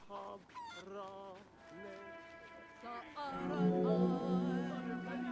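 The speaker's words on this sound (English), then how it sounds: "Chickens running everywhere." Chickens in the video game Assassin's Creed Origins, set in ancient Egypt, give a string of clucks and squawks, fairly faint and close, with a louder drawn-out cackle near the end.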